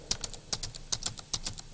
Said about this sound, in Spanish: tecleándolas aquí,